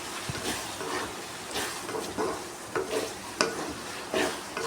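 Onion masala with sambar powder sautéing in a pan for a Ballari onion gravy, giving a continuous soft sizzle with a few scraping stir strokes, close and moderate, no talking.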